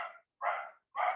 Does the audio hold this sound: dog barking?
yes